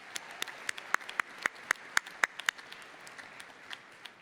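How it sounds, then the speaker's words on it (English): Sparse clapping from a small group at a university commencement ceremony, individual claps standing out in an irregular patter that thins toward the end, faint and unaccompanied by voices. "another round of applause for that"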